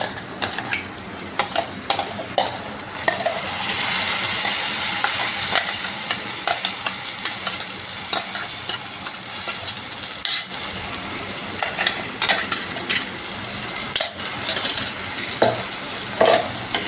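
Onion and tomato puree cooking in a pan for a paneer biryani, a continuous close sizzle with frequent scraping and clinking of a spoon against the pan.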